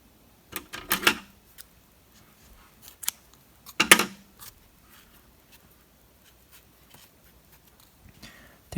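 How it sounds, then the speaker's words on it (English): Scissors snip crochet yarn in a few short, crisp cuts spaced a second or so apart, close and fairly quiet over a near-silent room. "So now that we're done, we will cut the string."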